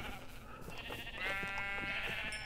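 Sheep bleating in the Minecraft video game, a couple of drawn-out, nasal bleats standing out clearly over a steady background of game noise.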